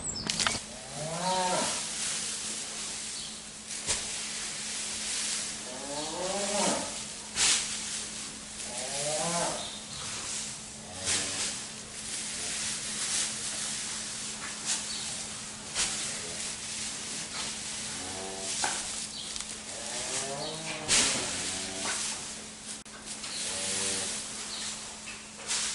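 Cattle moo repeatedly on a farm, several drawn-out calls at varying distances rising over a steady background hum and occasional clatter, with no one speaking.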